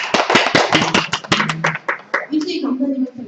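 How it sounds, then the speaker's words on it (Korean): An audience at a seminar breaks into a quick burst of clapping that quickly trails off, and then a voice begins speaking. "박수 부탁드립니다."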